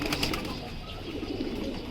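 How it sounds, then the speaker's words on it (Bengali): A loft of kept pigeons gives soft, close cooing with a brief flutter of wings, steady and low under a faint background, with no talking. "কবুতর"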